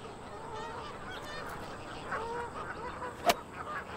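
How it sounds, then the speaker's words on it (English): Geese graze on a golf course, honking in a loose series of calls over a steady outdoor background, with one sharp louder honk near the end. "So geese have settled in and now outnumber eagles and birdies."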